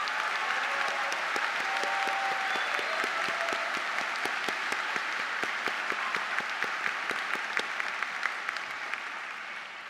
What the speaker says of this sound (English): let's give all of your loved ones a rousing round of applause